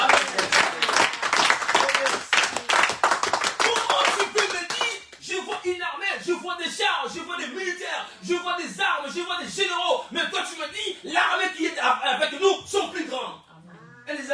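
A church congregation claps fast and loudly for a few seconds, then gives way to loud shouted acclamation and excited voices that carry on through the rest, with lighter clapping under the voices.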